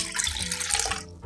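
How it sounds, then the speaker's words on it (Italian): Eighty grams of water poured into a well of flour for culurgiones dough, a brief close trickle and splash lasting about a second. "prendo 80 grammi di acqua"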